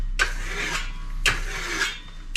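A steel trowel polishes Venetian plaster on a wall in three distinct scraping sweeps, each a short, crisp rasp separated by brief pauses, heard up close with no voices.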